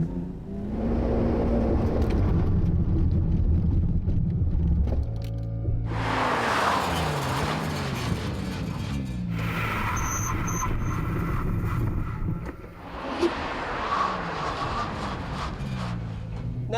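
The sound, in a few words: Nissan R32 GT-R accelerating to 100 and braking hard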